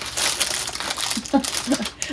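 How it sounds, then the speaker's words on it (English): Parchment paper crinkles and crackles as it is pressed into a baking pan in a home kitchen, with busy rustling throughout and a few sharper crunches near the end. "I put some parchment paper down in this pan, but it doesn't cover like all the edges"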